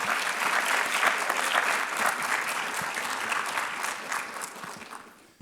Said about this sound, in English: let's give a round of applause to our family and support systems and friends